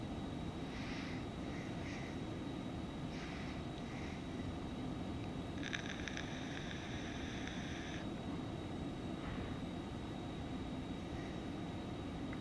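Steady broadband roar of the Phenom 300 business jet's engines in the X-Plane 11 flight simulator, constant and unbroken, with faint cockpit chimes and tones layered over it.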